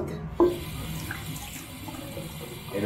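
A bathroom tap runs steadily into a sink, a constant close splashing hiss after a brief knock at the start, with no voices.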